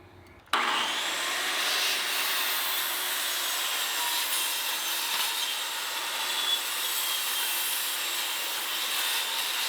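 Pallet wood for a farm barn wall being cut, a continuous rough buzzing saw sound that starts abruptly and runs steadily and loudly throughout.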